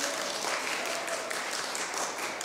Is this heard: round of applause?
yes